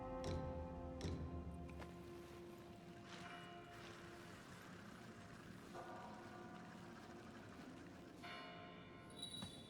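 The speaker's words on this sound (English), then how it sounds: "Ring the bell pinwheel to reunite with Face of Past." Bell pinwheel rung in the video game Wuchang: Fallen Feathers, several resonant tolls with long ringing decay, faint and layered over soft ambient game sound.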